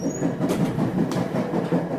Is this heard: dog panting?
no